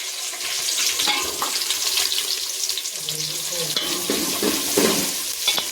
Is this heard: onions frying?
yes